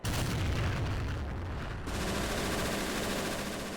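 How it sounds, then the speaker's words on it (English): Artillery fire pounds a beach in the World War II game Men of War: Assault Squad during the D-Day Normandy landings, with loud rapid bursts of gunfire and booming explosions running together, pausing briefly before another heavy barrage. "But let's try to fire some of this artillery."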